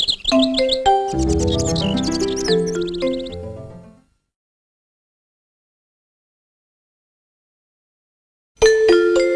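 Birds chirp and tweet in quick bright bursts for a few seconds, then silence falls before chirping briefly starts up again.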